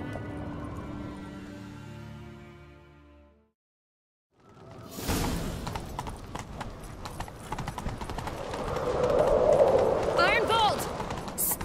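Rapid clip-clop of horse hooves galloping in The Witcher 3: Wild Hunt in the second half, rising in intensity, after a stretch of music and a brief silence.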